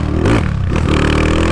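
A Honda Today motorcycle accelerates in second gear up close, its engine note climbing in pitch into a loud, rasping buzz over rattling clatter.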